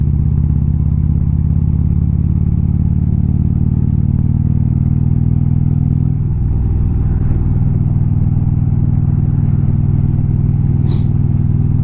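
A Harley-Davidson motorcycle cruises along East Bay canyon roads, its engine a loud, steady low rumble that dips briefly mid-ride and then settles back into a constant throb.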